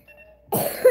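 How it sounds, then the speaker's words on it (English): A single short, sharp cough bursts out loud and close, preceded by a brief quiet hum during a Splatoon 2 live stream. "Cough."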